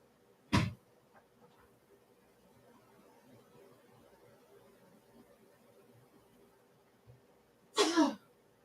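Two short, sharp sneezes stand out, one near the start and a slightly longer one near the end, against a quiet room background.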